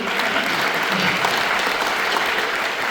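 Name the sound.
audience applauding at a senior awards ceremony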